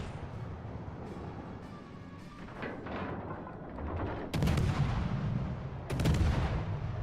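Warship guns fire in the game World of Warships: Legends, with several heavy booming salvos rising over a low rumbling battle ambience, two of them loud and close.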